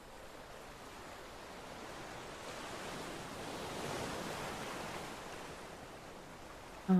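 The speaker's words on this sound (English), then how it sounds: "Oh, the sounds of the ocean are back." Ocean waves in the fantasy game Cycles of Aylorea, a soft, continuous wash of surf that swells gently toward the middle and stays quiet, with no voices.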